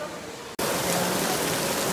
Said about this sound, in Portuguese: Chuva pra caramba, ó